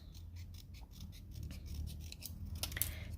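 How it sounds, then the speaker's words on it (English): Scissors cutting paper for a gift card holder, soft snipping and rubbing strokes that build toward a few sharper cuts near the end, faint and close with no talk. "I'm gonna go ahead and just cut this out"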